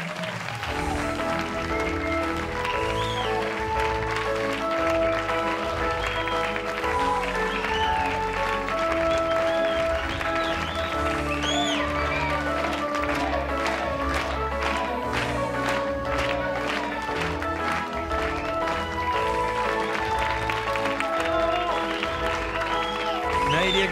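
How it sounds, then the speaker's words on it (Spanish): Studio audience applause welcoming a star couple of Chilean television, a dense sustained clapping wash running under bright music and possible voices throughout, steady and moderately loud. "Recibamos con un gran aplauso a la pareja estelar de la televisión chilena"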